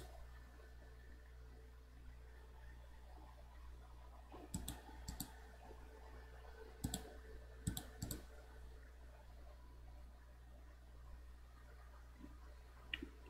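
A computer mouse right-clicking: a few sharp, quiet clicks in small clusters, some doubled, against a low steady hum in a quiet room, with no one speaking.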